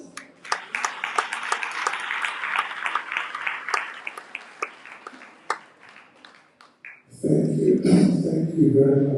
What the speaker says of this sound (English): with a roaring round of applause